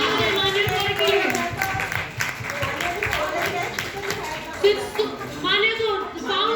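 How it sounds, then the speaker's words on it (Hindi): An audience at a felicitation event claps as a guest comes on stage. The applause is moderately loud and uneven, rising and falling with voices talking over it. "Big round of applause for Manya."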